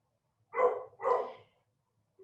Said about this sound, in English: I'm going to close my door so that we don't hear the dog